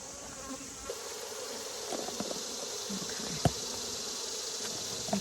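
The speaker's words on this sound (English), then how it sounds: "So here are the bees." Honey bees buzz from an opened hive during a varroa mite check, a dense, continuous drone close by with a few soft knocks and handling sounds mixed in.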